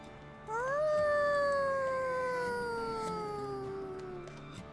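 In the video game RimWorld, a single wolf howls in one long, loud, clear tone that rises briefly and then slowly falls and fades.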